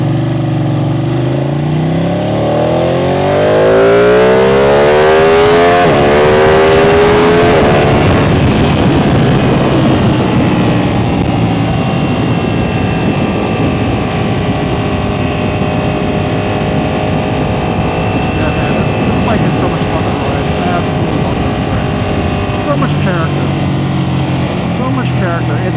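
A Ducati 899 Panigale with its stock exhaust revs up hard near the start, the pitch climbing through the gears, then settles into a steady, loud engine drone with someone talking over it.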